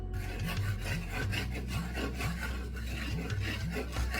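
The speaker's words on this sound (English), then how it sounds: "I'm adding flour to the bacon grease" Flour being stirred into hot bacon grease in a pan to start gravy, giving a steady close scraping and rubbing rasp with repeated stroke rhythm and no talking.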